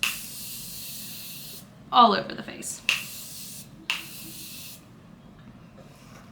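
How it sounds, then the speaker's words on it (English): Three short hissing bursts of Morphe makeup setting spray, close by, spaced about a second apart, with a brief remark spoken just before them. "I'm gonna use my Morphe setting spray"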